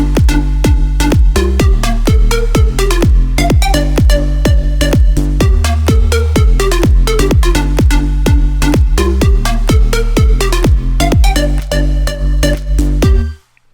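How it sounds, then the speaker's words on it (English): Electronic dance drop with punchy kick, bouncy synth stabs and dense rhythmic pattern, loud and continuous until a sudden stop. "that drop sounds like this"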